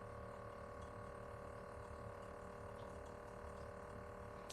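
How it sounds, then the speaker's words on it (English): Water cycling through the tubes of a HydraFacial machine on the C chamber, heard as a steady low pump hum with a faint continuous watery rush and small mechanical ticks, constant for the whole stretch. "So now you're gonna put the machine on your hand and you're letting the water cycle through."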